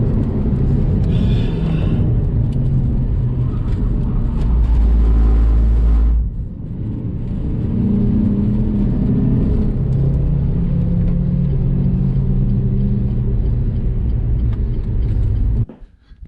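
A small Ford Fiesta engine, down on power, works hard under steady load as the car drives around a circuit. The loud, continuous rumble and whir dip briefly partway through, like a gear change, then build again.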